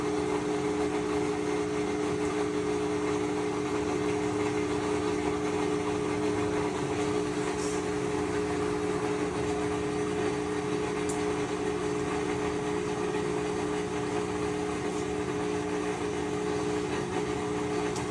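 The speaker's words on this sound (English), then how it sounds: "Pump sounds rowdy, but that's normal." Washing machine drain pump running in a diagnostic spin cycle, producing a steady, rough mechanical hum with a droning tonal whine that holds constant throughout with no talking.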